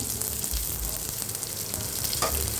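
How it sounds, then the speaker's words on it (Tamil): Onion, garlic, green chilli, dried red chilli and fenugreek seeds sauté in hot oil in a pan for fenugreek rasam, giving a steady, close hiss and crackle with no talk. "இப்போ நல்லா வதக்கணும்"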